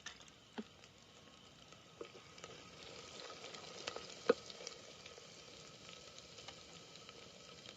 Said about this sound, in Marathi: आता हे मसाला टाकते